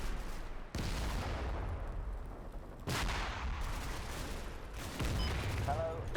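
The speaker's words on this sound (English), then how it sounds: "Hang on, so it's just more mortar rounds." Mortar rounds explode in the Normandy wargame Combat Mission: Battle for Normandy. Three heavy booming blasts land seconds apart, each followed by a long rumbling tail, with faint voices under the barrage.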